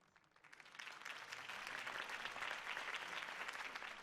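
Applause from a crowd in the video game Batman: The Telltale Series swells up quickly after a campaign speech and continues steadily, a broad wash of many hands clapping at moderate distance.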